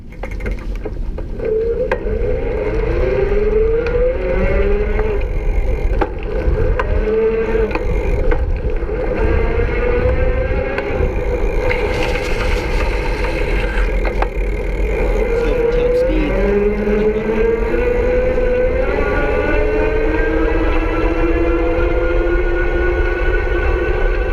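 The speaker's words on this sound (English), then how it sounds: "I'm going to do some pedaling so you can listen for the kind of the start and stop with that cadence sensor" An Electric Bike Outfitters Phantom e-bike conversion kit motor, a lower-powered hub drive with cadence sensor, whines loudly and close while pedaling, its pitch rising and falling in sweeps as the assist cuts in and out, over steady road rumble.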